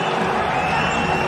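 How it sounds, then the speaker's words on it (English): A large cricket stadium crowd roars continuously during an India versus West Indies match, a dense, loud wall of cheering with no pauses. "The crowd on their feet."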